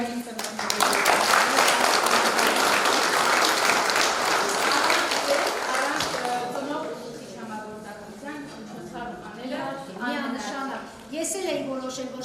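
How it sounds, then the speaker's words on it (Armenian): Applause from an audience honouring parents at a school event in Spitak, a dense sustained wash of clapping that fades into talk and scattered claps toward the end. "Մեկ անգամ ուզում եմ ծափայել նաև ինձ ծնողներին։"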